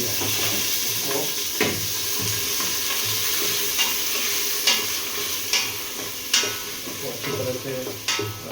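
Gravy base that had been frozen being stirred and mixed in a hot pan, a steady close sizzle with recurring scrape and clack transients from the utensil, no talking.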